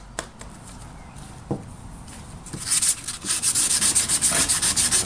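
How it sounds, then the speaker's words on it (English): Rhythmic sandpaper rubbing across wood while restoring a hatchet, quiet scattered scrapes at first, then steady rapid back-and-forth strokes growing louder and close. "I'm using the sandpaper right now."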